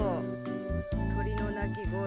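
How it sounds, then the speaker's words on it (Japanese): Cicadas sing near an observation deck in Shiretoko, Hokkaido, a steady high buzzing drone that runs under a person talking close by. "セミの鳴き声と"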